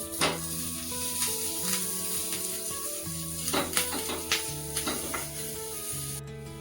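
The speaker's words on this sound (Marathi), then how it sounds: "त्याच्यामध्ये आपण जिरं गॅसची फ्लेम बारीक करा थोडासा हिंग आणि दोन मिरच्या बारीक चिरले" Cumin, asafoetida and finely chopped green chillies temper in hot ghee over a low flame, making a steady close-up sizzle broken by a few sharp crackles and pops. Nobody speaks.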